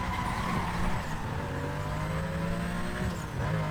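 Race car engines in the video game Need for Speed Most Wanted drone steadily throughout, with shifting engine tones and cars passing during a three-lap circuit race.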